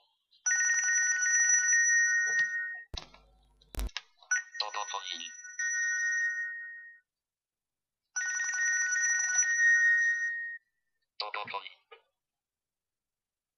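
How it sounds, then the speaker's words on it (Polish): A telephone rings in repeated trilling bursts with gaps between them during a live Polish talk show, with a few brief clicks and knocks in the pauses. "Mamy telefon."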